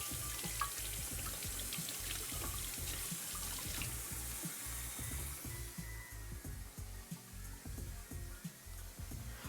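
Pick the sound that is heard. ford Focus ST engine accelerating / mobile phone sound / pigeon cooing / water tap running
water tap running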